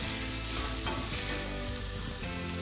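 Beef mandi masala with garam masala and pepper powder being fried and stirred in a pan, a loud, constant crackling sizzle filling the whole short stretch, with no voices.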